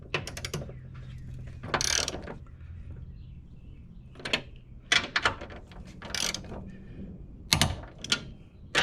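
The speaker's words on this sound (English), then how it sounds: "I will absolutely use the torque wrench" A big 1/2-inch torque wrench is tightening the studs and bolts of a strut tower brace on a car. Sharp ratcheting clicks come in several separate bursts with quiet pauses between them, close and fairly crisp.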